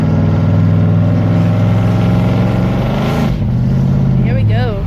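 A 1993 Chevy K1500 pickup truck drives around the block, its engine a loud, steady drone close by, with a brief dip in pitch as it shifts partway through; a voice speaks over it near the end.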